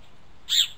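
A young green-plumaged satin bowerbird gives a single short, bright call at its bower, clear and fairly close against a quiet background.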